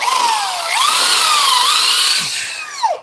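A drill bit bores a center mark into a broken wheel stud on a Spicer artillery hub, a loud, steady high-pitched whine that wavers in pitch and ends with a brief rising squeal.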